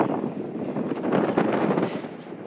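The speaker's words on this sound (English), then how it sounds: "It's a little bit windy today as well" Steady wind buffets the microphone on a mountain ridge during a grade 3 scramble on Cneifion Arete, a loud continuous roaring rush with gusty swells and no voices.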